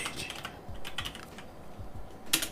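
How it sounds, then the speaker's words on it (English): Typing on a computer keyboard, a quick, uneven run of soft, close keystrokes ending in one sharper tap, with no speech over it. "I'm gonna type tea cup underscore handle."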